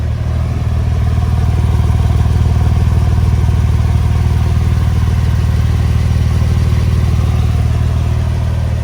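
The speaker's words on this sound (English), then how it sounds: "This does have an aftermarket Borla catback exhaust." A deep, steady exhaust burble from an idling 2005 Porsche 911 Carrera S with an aftermarket Borla catback exhaust, loud and close, holding an even throb throughout.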